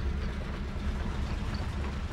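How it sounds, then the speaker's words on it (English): Santa Fe GP7 diesel locomotive hauling empty passenger cars out of Chicago's Union Station toward the yard, a steady low rumble of engine and rolling cars, moderately loud and continuous without voices. "a Santa Fe GP7 is pulling the empty passenger cars of the recently arrived Super Chief and El Capitan out of Chicago's Union Station"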